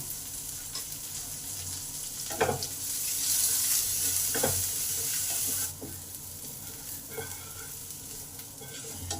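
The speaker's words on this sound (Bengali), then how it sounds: "পেঁয়াজগুলো ভাজা ভাজা হয়ে গেছে" Chopped onions frying with salt in a pan for tomato chutney, a continuous close sizzle with a few spatula knocks and a louder hissing stretch midway, no talking.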